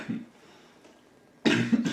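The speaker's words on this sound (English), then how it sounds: "Kinda coughing up this freaking lung here." A man coughs hard several times in a close, loud burst near the end, after a quieter stretch of low room noise and a faint earlier cough.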